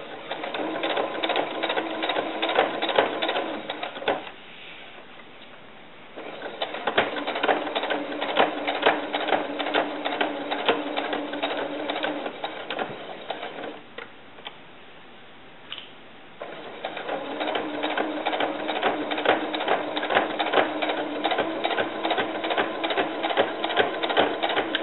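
A sewing machine stitches an elastic casing on a doll bra in fast, rhythmic bursts of close, rattling needle strokes, with short quiet pauses between runs.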